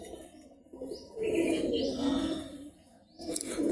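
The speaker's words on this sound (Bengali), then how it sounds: "দেখতে পাচ্ছেন সব গাইস গিরিবাজ কবুতর" Giribaz pigeons at a pigeon farm, with soft cooing calls and light chirps repeating across the clip, close by and moderately loud, and no talking.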